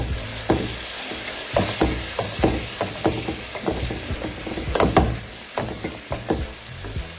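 Peanut paste sizzles and fries in hot oil while a wooden spatula stirs it, with steady crackling and repeated scraping knocks against the pot at an irregular pace, close and clear.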